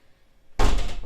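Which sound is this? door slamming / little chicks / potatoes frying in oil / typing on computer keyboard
door slamming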